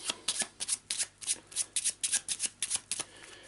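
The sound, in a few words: shuffling an Eldritch Horror encounter card deck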